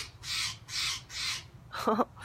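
A crow caws loudly overhead, three harsh evenly spaced calls followed by a brief burst of a voice.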